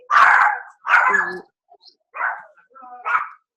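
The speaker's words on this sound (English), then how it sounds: "Is that your dog?" A dog barks in the background of a Zoom call, four or five separate barks and yips spaced across a few seconds, moderately loud and otherwise alone.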